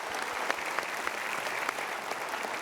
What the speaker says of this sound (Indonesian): sementara kita berikan tepuk tangan dulu